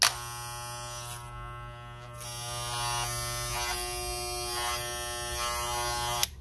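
An electric hair clipper with a worn blade buzzes loudly and harshly, a rattling drone that steadies and shifts slightly before a brief click at the end.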